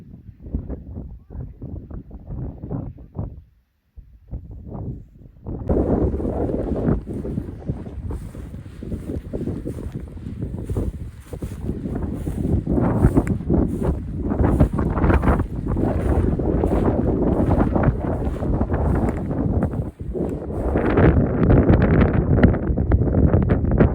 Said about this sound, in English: wind's slowly coming